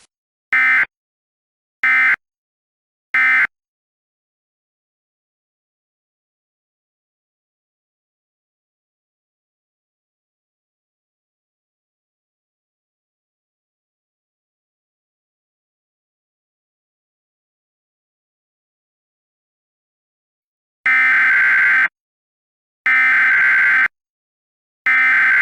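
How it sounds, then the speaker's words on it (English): Emergency Alert System closing tones on a broadcast: three short, loud, evenly spaced bursts, a long silent stretch, then three longer bursts near the end, with no talk. "Normal programming will resume after the closing tones."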